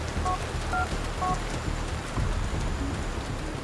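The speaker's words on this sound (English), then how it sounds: "we can go through any payphone in the city where we just gotta press E to call the contact" Payphone keypad tones being dialed in GTA 4, a few short beeps in the first second and a half over a steady rain-like wash of city ambience, then only the background hiss.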